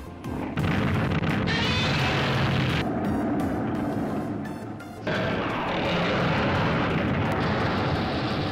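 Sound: airplanes in 1955 Godzilla film

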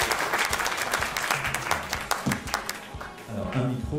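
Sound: audience applause

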